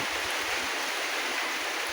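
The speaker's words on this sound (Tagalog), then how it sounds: "Walang tigil yung ulan." Heavy, unceasing rain beside a house where floodwater has gathered: a steady, dense hiss of downpour that continues evenly throughout, with no voices.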